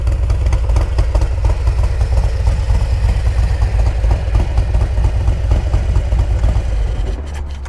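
A Harley-Davidson Road Glide Ultra fitted with Rinehart exhaust runs loud and steady at close range, a continuous deep rumble that eases off slightly at the end.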